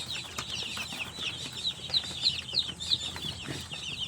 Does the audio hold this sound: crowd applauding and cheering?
no